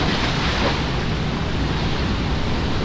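Fast-flowing cold river water rushing near a waterfall on a jungle hiking trail, a dense, steady roar close by with no pauses and no voices.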